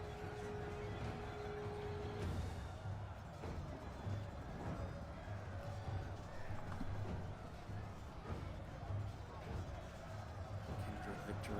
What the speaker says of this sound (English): Our horse archers charging forwards.